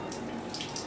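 Tap water running steadily during a hand wash, a continuous hissing splash into a sink, close and unbroken with no talking over it.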